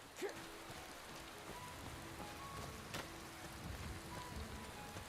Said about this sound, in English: It's still fucking raining